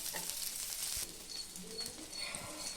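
Fish shallow-frying in a little oil, a dense hiss that is loud at first and then settles into a quieter crackle with faint chirps in the background; no talking.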